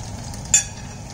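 Pork satay frying in a pan, a steady soft sizzle with a single brief clink of a utensil stirring midway, close and moderately quiet, no talking.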